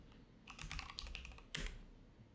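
Code is typed on a computer keyboard in a quiet, quick burst of key taps, followed by a brief pause and then a final sharper keystroke cluster.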